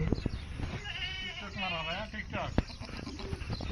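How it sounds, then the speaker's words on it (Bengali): Goats bleat in long wavering cries, several overlapping calls close by, with some scuffling and a voice in the background. "এখানে এই যে ছাগল অনেকগুলো"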